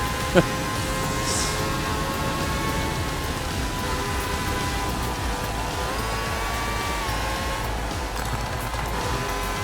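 Rain in the Formula Legends racing video game, a steady wash of hiss and patter held at an even level throughout, mixed with a faint engine drone and a brief click near the start.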